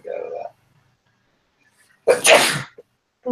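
A single sharp sneeze bursts out loud and close, with a brief follow-up catch of breath, set between stretches of quiet and a short spoken phrase before it.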